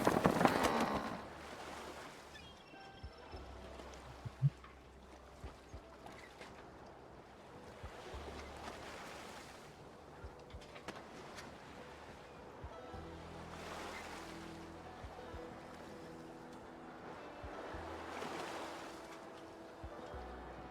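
A sailing boat moves over open water in the video game Project Zomboid: soft surf and lapping waves with gusts of wind across the sails, plus faint creaks and knocks, all quiet and continuous.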